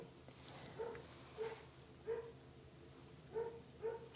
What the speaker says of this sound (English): I do apologise for the barking dog.